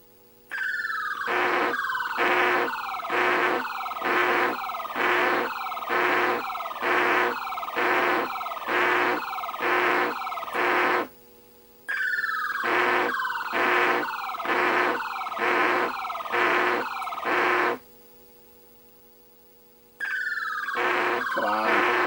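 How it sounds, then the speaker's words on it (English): Atari Anti-Aircraft arcade game from 1974 on a black-and-white board under repair, firing repeated chirpy missile tones in fast regular bursts with buzzing electronic explosion noise, loud and steady with short pauses, no voices. "So the missile sound is good. The explosion sounds are not right."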